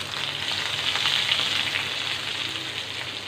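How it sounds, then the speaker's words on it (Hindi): Whole red chillies temper in hot oil for Bihari-style dahi baingan, giving a steady, bright sizzle and crackle that holds evenly throughout, close up and with no talking. "ज़बरदस्त सा हमने इसका तड़का लगाना है।"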